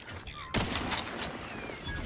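Sniper rifle fire in the video game Outer Worlds 2, a sudden loud burst of gunfire followed by a crackling, ringing tail and faint game voices underneath.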